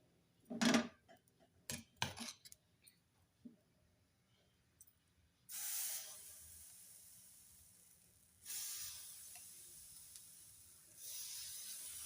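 Multigrain dosa batter hitting a hot pan: short clicks and taps give way to bursts of bright sizzling hiss that swell, fade and return several times, fairly quiet and close with no talk.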